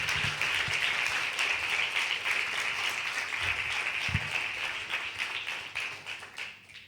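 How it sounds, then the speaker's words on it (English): A crowd at a Sai Centre bhajan gathering applauds steadily, dense clapping that fades gradually toward the end, with a few louder claps standing out. "Can we give another round of applause to our wonderful Foundation children?"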